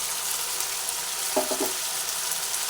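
Watermelon rind curry with potato, onion, garlic and tomato puree cooking in a pan gives a steady, fairly loud sizzle while it is stirred, with a brief scrape partway through.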